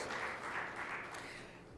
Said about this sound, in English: please give Mr. Tuari a round of applause